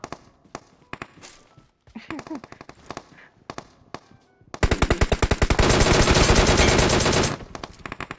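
PUBG Mobile gunfire: scattered single shots crack at first, then a long, loud sustained burst of automatic fire rattles rapidly for several seconds before trailing off into a few more shots.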